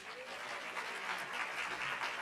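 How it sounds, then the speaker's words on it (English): A hall audience at the G20 Social Summit in South Africa gives a fairly faint, sustained round of applause, even and continuous without speech. "a good last round of applause, Kolisa."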